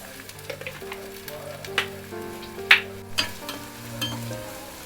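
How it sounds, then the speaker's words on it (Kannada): Hot oil sizzles and crackles in a pan as a tempering for black pigeon pea curry, with steady frying hiss, a few sharp pops and stirring scrapes, close and without talk. "ಒಗ್ಗರಣೆ ಆಯಿತು."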